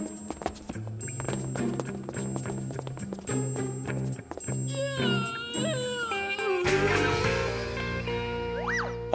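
A cartoon cat stuck in a tree wails and meows over a busy animated soundtrack of music, boings and jingles, with sliding pitch swoops rising and falling in the second half.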